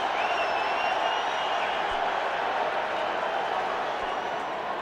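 A stadium crowd cheering at a 1992 New Orleans Saints vs Detroit Lions NFL game, a steady, loud roar with a faint whistle-like tone on top, sustained without breaks and without talk.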